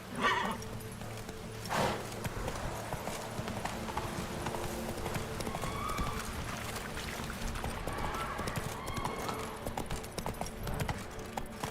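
Steady clip-clop of horse hooves from the horse Roach in a video game, trotting along continuously with a brief whinny near the start and game ambience underneath.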